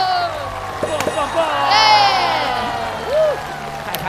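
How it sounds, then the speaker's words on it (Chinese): A comedy-show audience cheers and whoops, with excited voices rising and falling together in a loud, close burst, and scattered clapping beneath. "掌声再次给我们的大顺"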